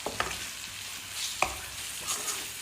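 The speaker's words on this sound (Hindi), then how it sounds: "थोड़ा सा फ्राई करेंगे इसको मसाले के साथ भी" Green chillies frying with ground masala in a pan over low flame, a faint steady sizzle punctuated by a few spoon taps and scrapes while being mixed, quiet and close, without speech.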